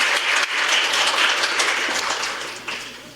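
An audience at a National Assembly policy forum on nutrition and healthy longevity breaks into loud, sustained applause that fades slightly toward the end.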